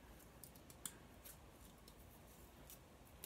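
Scissors snip through scraps of cardboard for a small diorama tree, giving a few faint, sparse clicks and crunches over a quiet room hiss.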